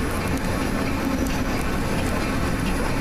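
A Metra BNSF commuter train runs into Westmont, heard from inside the cab or control car as a steady, loud rumble of wheels and rail noise with faint clicks, no talk.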